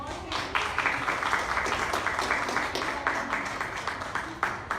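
A church congregation claps together in a sustained, fairly even burst of applause, steady and moderately loud throughout with occasional sharper hand strikes, with some voices mixed in.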